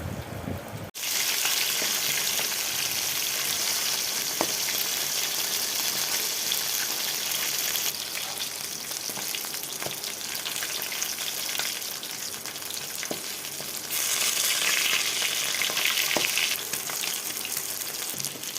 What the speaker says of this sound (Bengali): এইভাবে আমি লাল লাল করে মাছগুলো ভেজে নিয়েছি